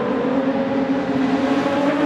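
Production sedan race cars roar around Wahgunyah Speedway in an Australian title heat, a sustained loud engine drone with a steady pitch holding across the whole stretch, no voices on top.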